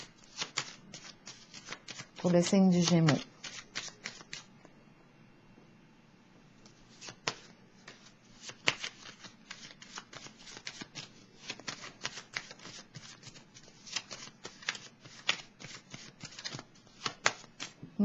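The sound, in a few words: tarot cards being shuffled to draw a card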